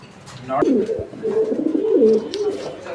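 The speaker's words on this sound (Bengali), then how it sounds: "কবুতরের জোড়াটির অ্যাক্টিভিটি নটটা কী পরিমাণ ডাকাডাকি করতেছে" A pair of pigeons coo close by in a steady run of low, throaty, rolling calls that continue through the whole stretch.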